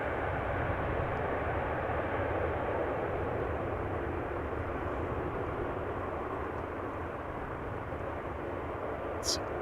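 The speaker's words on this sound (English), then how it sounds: "Turkish A330" A Turkish Airlines Airbus A330 at Amsterdam Schiphol Airport produces a steady, loud, broadband jet engine roar that holds unbroken throughout, with no speech over it.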